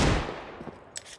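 Desert Eagle headshot in a Counter-Strike match on the map Ancient: a loud sharp pistol crack at the start that quickly decays, followed by fainter distant shots.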